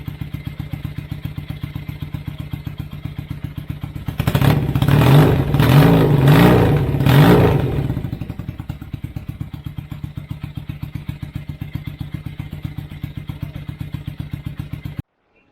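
A Kawasaki KZ440 motorcycle engine runs at a steady idle, then revs up sharply in several pulsing bursts for a few seconds before dropping back to a chugging idle.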